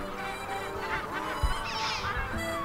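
Seabirds call over the Blasket Islands, a dense chorus of honking, goose-like cries rising and overlapping at moderate distance above a steady wind-like background.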